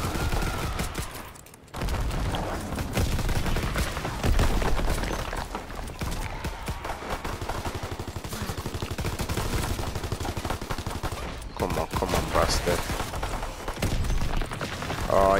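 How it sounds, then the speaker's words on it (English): Rapid pistol fire hammers away almost nonstop in Call of Duty WW2 Zombies on hardcore, dense overlapping shots with brief gaps, loud and close, with voices talking under the shooting. "Spam it with pistols, yeah"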